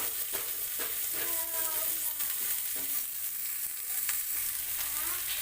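Chopped onion and red chili frying in oil for an Indian okra masala, a steady close sizzle with occasional stirring scrapes, heard alone with no talk.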